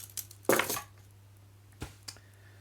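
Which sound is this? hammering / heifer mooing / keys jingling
keys jingling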